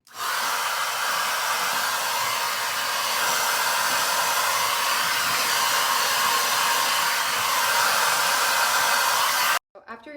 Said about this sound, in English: before I hit it with the dryer